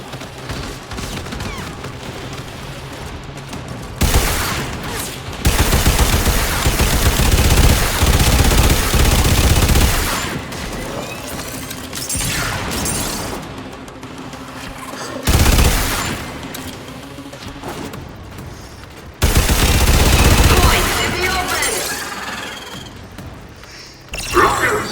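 Gunfire in the video game Warframe rattles in loud sustained automatic bursts separated by brief lulls, with dense overlapping shots, some sharp impacts and speech mixed in between volleys.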